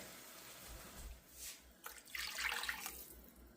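Water splashes and pours into a pot in short bursts that build into a steady rushing stream, close and fairly quiet, with no talking.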